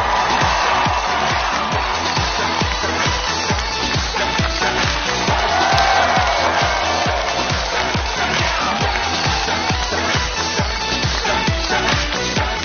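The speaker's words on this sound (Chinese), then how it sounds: "掌声有请" A studio audience at a Chinese TV game show claps and cheers continuously, producing a dense wash of applause that stays steady throughout, with a host's voice briefly cutting through.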